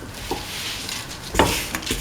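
Salt being mixed into a lentil mixture in a pot, giving soft scraping and stirring sounds with a louder clatter of the spoon against the pot partway through.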